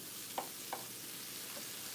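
Shrimp and cilantro fry in a pan, giving a constant close sizzle broken by two faint clinks of a utensil.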